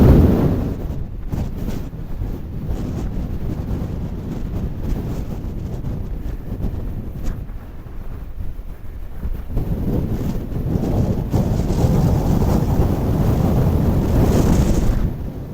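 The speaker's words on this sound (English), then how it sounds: "the wind out there, it's absolutely howling" Wind howling across High Raise, a Lake District fell top, buffeting the microphone. A continuous loud roar with rough gusts surges and swells throughout, with no voices.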